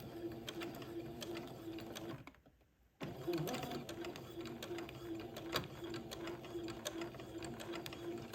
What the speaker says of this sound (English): I've got about half of this sewn and I've got the other half still to do